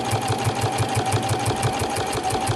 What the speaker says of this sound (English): I'm just sewing right along the edge of the binder